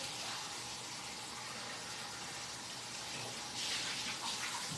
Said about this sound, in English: No, but all it really had in it was butter. Yeah, I'm just going to rinse it.